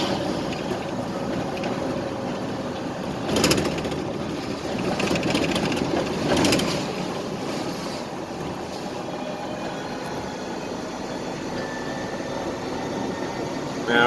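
An electric one-ton truck pulls a loaded trailer uphill in second gear at about 30 miles per hour, giving a steady broadband drive and road rumble from inside the cab, with a couple of brief louder bumps.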